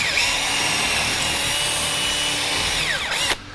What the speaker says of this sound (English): may even wobble the drill bit a little bit